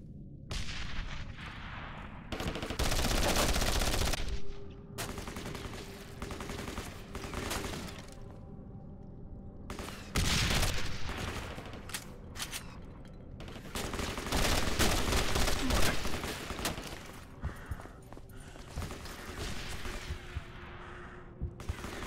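Machine gun fire in the video game Code of Honor 3, long loud bursts of rapid automatic shots repeating over about twenty seconds, with heavier booming salvos and brief pauses between volleys.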